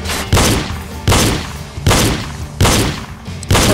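Gunshots from the shooting-range game Reload, about five loud, sharp blasts spaced under a second apart, each with a short ringing decay.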